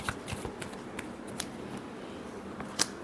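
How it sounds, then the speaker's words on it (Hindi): Tarot cards are shuffled by hand up close, giving quiet riffling and flicking bursts with a few sharper snaps, and no voice over them. "last shuffle"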